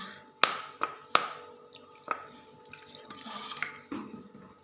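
Fish sauce spooned into papaya salad, a few soft wet drips and small liquid splats landing in the mixture, close and quiet, with light clinks of utensils against the dish.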